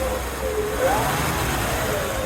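A 1955 Chevrolet Nomad with a completely rebuilt 265 V8 idles, a steady low engine rumble held evenly throughout at close range.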